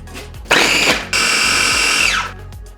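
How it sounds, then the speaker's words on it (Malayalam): A food processor mincing cooked chicken breast: a loud, high motor whir that starts abruptly, pauses briefly, then runs steadily again before winding down, close and alone with no talk. "ഇത് ഞാനൊരു ഫുഡ് പ്രോസസ്സർ ഉപയോഗിച്ചിട്ടാണ് മിൻസ് ചെയ്യാൻ പോകുന്നത്."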